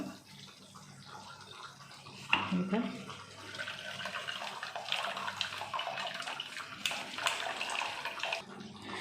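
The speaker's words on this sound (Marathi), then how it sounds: "आता ही आपल्याला अशा बारीक चाळणीमध्ये चाळून घ्यायची असते, तसंच नाही टाकायचं, हे चाळून घ्यायचं।" Ground crab masala paste being pressed through a fine kitchen sieve, a soft wet squelching and trickling that rises after a brief knock and continues at low level.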